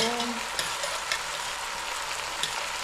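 Green onion sautéing in a pot, a steady bright sizzle throughout with a few light stirring clicks, close and moderately loud with no talking.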